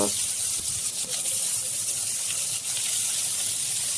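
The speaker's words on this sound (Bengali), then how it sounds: "সরিষার তেলটা গরম হয়ে গেলে বেঁধে রাখা মাছগুলো এক একটা করে দিয়ে দেব" Hilsa fish wrapped in gourd leaves sizzling in hot mustard oil, a steady loud hiss and spatter throughout with no pauses.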